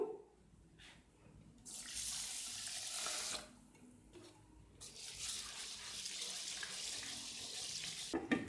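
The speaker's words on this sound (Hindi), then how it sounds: "2 कप चावल धो के भिगो रही हूँ।" Two cups of rice being washed in water at a kitchen sink for chicken pulao, a running tap gushing in bursts with brief pauses and sloshing as the grains are rinsed.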